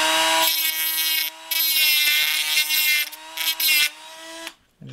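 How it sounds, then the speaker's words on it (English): A power grinder smooths the sharp, jagged cut edge of a part from a multicopter hub kit, giving a loud, steady high whine that dips briefly several times as it bites and then cuts off. "I just grind it down so it's not sharp."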